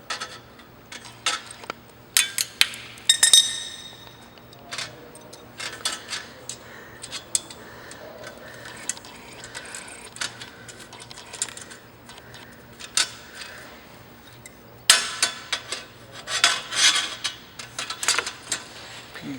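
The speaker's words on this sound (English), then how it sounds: "turn it in place with the screwdriver" A screwdriver turns a nut on a LiFePO4 battery rack, giving close, scattered metallic clicks and small clinks in irregular bursts, with quieter gaps between them.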